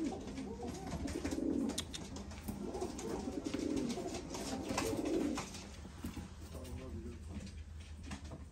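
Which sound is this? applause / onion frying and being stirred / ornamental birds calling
ornamental birds calling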